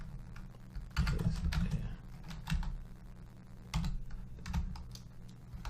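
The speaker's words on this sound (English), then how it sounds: "Now just type that again." Computer keyboard typing while entering a note in SolidWorks drawing software, a quick run of soft close key clicks in uneven bursts with short pauses, fairly faint and with no talking.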